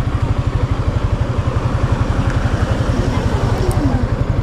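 A motorcycle engine idles close by on a Mindanao-to-Luzon road trip, its steady rapid exhaust pulses thumping evenly and loudly for the whole stretch, with no talk over it.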